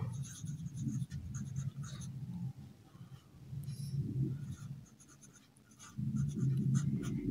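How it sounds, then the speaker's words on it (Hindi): Pen or pencil scratching on paper while writing out an answer to a Class 6 geometry exercise on measurement, steady close scribbling in bursts with short pauses, no talk. "तो इसका आंसर हम लिख सकते हैं"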